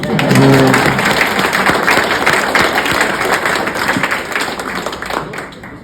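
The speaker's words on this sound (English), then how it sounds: "Please clap now." Enthusiastic applause from a meeting audience, dense clapping that stays loud and steady throughout before easing slightly at the end.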